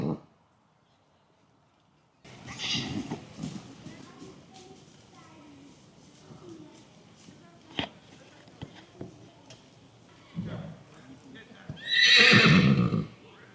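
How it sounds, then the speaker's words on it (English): Horses and foals at a woodland campsite, with a loud whinny near the end and scattered softer neighs and thuds, heard at a moderate distance among faint background voices. "Foals are a bit skittish."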